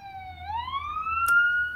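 A single siren wail rising steadily in pitch, loud and close, with a brief click partway through.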